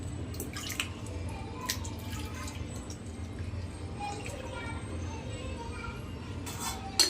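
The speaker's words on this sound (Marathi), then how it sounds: "हे ना मस्त धुवून घेऊया जे काळं पडलं आहे ना ते" Sweet potatoes being rinsed under water, with steady splashing and dripping at close range and a brief louder splash near the end; faint voices in the background.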